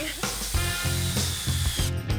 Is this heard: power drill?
yes